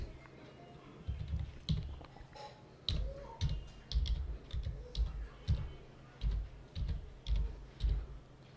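Keys on a computer keyboard are tapped in quick, uneven bursts of clicks as a URL is typed into a Windows taskbar bar, close and fairly soft, with no voices.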